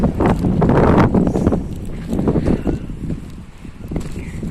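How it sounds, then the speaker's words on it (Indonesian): Gusty wind buffets the microphone at a riverside fishing spot at low tide in midday heat, with loud, uneven rushing bursts that rise and fall and no voices. "Angin juga rupanya."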